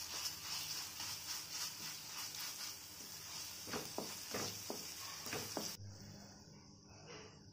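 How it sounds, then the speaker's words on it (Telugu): Ginger-garlic paste frying in hot oil in a pan for a capsicum potato masala curry, giving a steady, bright sizzle with a few soft stirring scrapes near the end. "ఇప్పుడు ఇందులో ఒక హాఫ్ స్పూన్ అల్లం చిన్నులపై పేస్ట్ వేసుకొని పచ్చి వాసన పోయేంత వరకు వేయించుకోవాలి"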